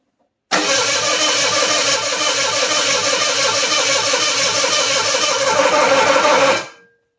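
A 1985 Ford Bronco II engine fires up after a head gasket replacement. It catches abruptly and runs loud and rough for about six seconds before cutting off, with no talking.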